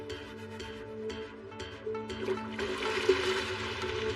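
Water sloshes and gushes in an anime battle scene of a water prison technique, a quiet rising rush of liquid layered over a low droning music bed.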